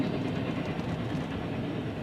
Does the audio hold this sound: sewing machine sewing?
no